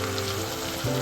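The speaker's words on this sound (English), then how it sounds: "The onions are sauteed already." Onions sautéing in a pan of hot oil for a Sri Lankan okra curry give a loud, dense, continuous sizzle, with a low background hum that shifts partway through.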